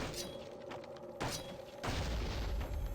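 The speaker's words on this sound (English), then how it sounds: "just a little explosive barrel there" An explosive barrel bursting in the video game Dungeon Siege Legends of Aranna, a sudden loud boom at about 1.2 seconds and a second heavier blast near 1.8 seconds, followed by a sustained low rumble over constant game ambience.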